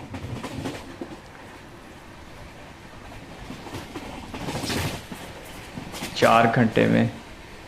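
A Delhi-Jaipur double decker train runs at speed with a steady rumble and rattle of the cars, and someone talks over it near the end.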